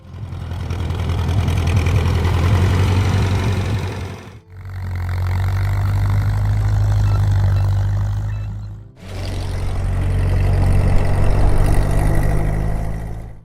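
A Ford 8N farm tractor engine idles close by, a steady low chugging rumble in three continuous stretches separated by brief cuts, loud and alone with no talk.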